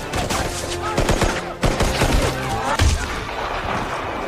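Gunfire rings out during an enemy attack in a war film, with scattered bursts of shots and heavy booms cutting through a dense, loud battle soundtrack.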